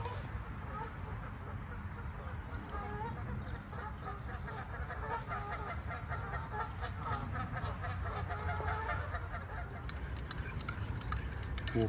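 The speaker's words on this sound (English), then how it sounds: "Bloody noisy geese, so many here." Many geese honk continuously around their nesting island by a lake, a dense, busy chorus of calls from several birds at close and middle distance, with some talk mixed in.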